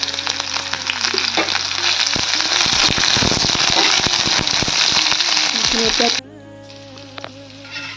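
Onions frying in a pan with dried red chillies give a loud, close sizzle broken by rapid scraping and clattering stirs, then the sound drops sharply to a quieter, steady fry near the end.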